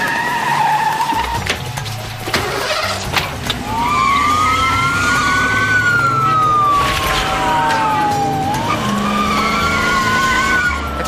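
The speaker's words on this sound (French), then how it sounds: "La voiture de patrouille." Police patrol car siren wailing in long rising and falling sweeps over screeching tyres and a revving engine during a chase, loud and close, with no talk.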